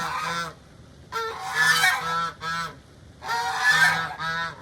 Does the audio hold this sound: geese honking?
yes